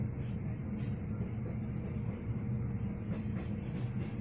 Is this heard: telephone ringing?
no